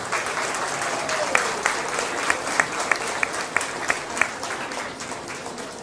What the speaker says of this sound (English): Give a big round of applause to these exhibitors.